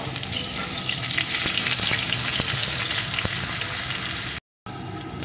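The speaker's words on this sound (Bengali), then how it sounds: "পেঁয়াজ কুচিটা একটু ভেজে নেব।" Small chopped onion fries in oil for a dal with egg and potato, giving a steady, loud, close sizzle with faint stirring ticks. The sound cuts out briefly near the end, then resumes.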